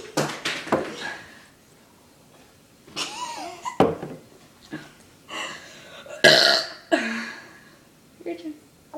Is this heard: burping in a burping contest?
yes